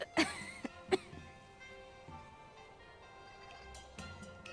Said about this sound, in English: Miss Wangjun, you're coughing harder than you were before